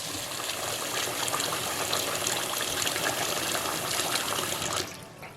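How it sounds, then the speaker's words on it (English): Cold water gushes steadily into a bowl of sushi rice, a continuous rushing pour that holds for several seconds and then eases off at the end. "This time I'm going to fill it up and leave the cold water in for 30 minutes."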